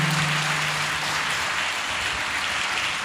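A church congregation at a Sunday worship service claps loudly, a dense sustained patter of many hands running for the full few seconds without pause.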